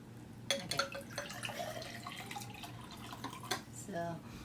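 Water trickles and splashes into a container in short bursts, close by, with a faint rising fill tone near the end.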